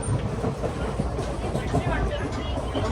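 Steady rumbling rail clatter heard from inside a moving train, a dense continuous roar with rhythmic wheel noise, loud and close, with faint chatter of passengers underneath.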